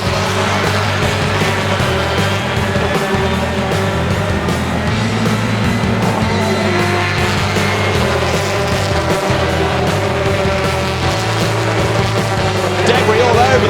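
British Touring Car Championship race cars roar around the Snetterton circuit in a continuous loud, droning blend of engines, with pitch wavering as cars pass. A commentator talks over the noise.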